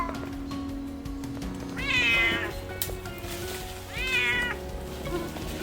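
A frightened cat meows twice in drawn-out cries during a tree removal and rescue in Sturbridge, Massachusetts, heard over low outdoor machinery hum.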